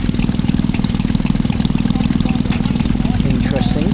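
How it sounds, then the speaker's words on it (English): A small 1/16 horsepower flame licker engine, once used to test Singer sewing machines, runs at a country show in Sussex with a fast, steady, close puttering chug, with people talking over it. "to the right of it is a 1/16 horsepower flame liquor engine, originally used for testing Singer sewing machines"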